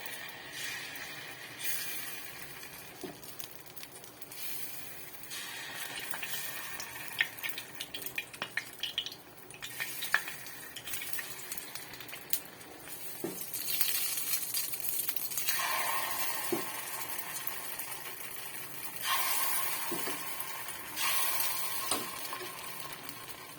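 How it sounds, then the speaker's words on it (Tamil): Batter pouring into an oiled cast-iron paniyaram pan for sweet lentil paniyaram, with soft sizzling bursts, occasional metallic taps and clinks, and quieter gaps in between. "கொஞ்சம் கொஞ்சம் எண்ணெய் விட்டுக்கலாம் இப்போ மாவு ஊற்றிக்கலாம் அதில்"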